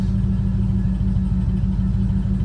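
A 1974 Chevrolet Blazer barn find idles steadily in drive while barely inching forward, its engine a continuous low, even rumble with no revving and no voices.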